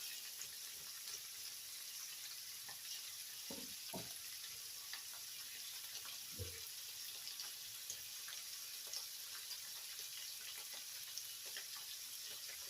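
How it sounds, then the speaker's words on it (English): Smoked sausage and sliced onion fry in a pan with a steady, soft hiss, broken by a few brief knocks of stirring and no talking. "Now I put the sausage and some sliced onion in here. And we're just going to do this until the sausage starts to brown a little bit."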